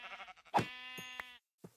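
A sheep in a blocky survival video game gives a loud, quavering bleat close by, preceded by softer stuttering calls and followed by a short final bleat.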